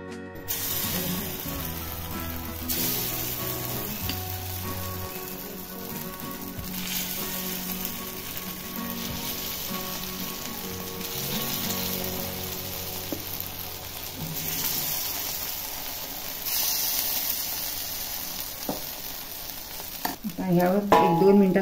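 Green moong appe batter in oil in a hot appe pan, a continuous close frying sizzle with repeated ratcheting, scraping clatter of the pan and utensils, and a louder burst of clanking near the end.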